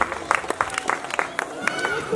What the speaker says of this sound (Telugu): మనం అందరం కూడా చప్పట్లతో అభినందించాల్సినటువంటి అవసరం ఉంది